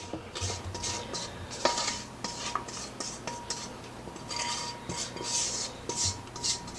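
A spatula scrapes lime curd mixture out of a bowl into a pan in a series of short, soft rubbing and scraping strokes, close and fairly quiet.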